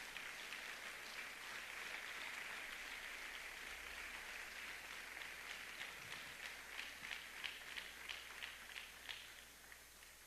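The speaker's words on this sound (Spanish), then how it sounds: "Puede estar una ofrenda de palmas al Señor." Church congregation clapping as an offering of praise, a broad steady wash of applause that becomes more rhythmic and pulsing toward the end, moderately distant, without talk.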